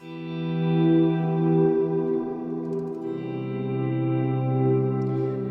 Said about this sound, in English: I can use my volume pedal to swell the chord